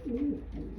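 A racing pigeon gives a single close, low coo lasting under a second, with a faint background rumble and no talk.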